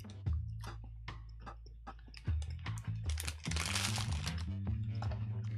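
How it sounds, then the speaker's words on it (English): British oat cake round crackers crunched close up while being eaten, a run of crisp, crumbly cracks and bites with dense crunching building toward the end, no talking. "Hear that? That's the sound of a tasty cracker."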